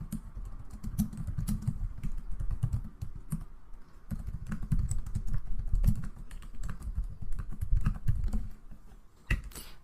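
Fingers type on a computer keyboard in uneven bursts of clicky keystrokes, close and distinct, with short pauses between runs of keys.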